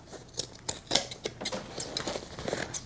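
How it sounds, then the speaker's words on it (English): Scissors trimming seam allowance off a fabric crossbody bag, with a close series of crisp snips and light rustling, irregular and repeated without talk. "Now we can cut the seam allowance away a little here"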